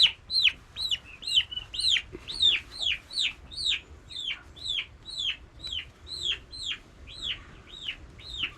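Poultry calls repeat in a steady run of rising, clucking notes, close and fairly loud, while turkeys are handled for wing clipping; no talk is heard.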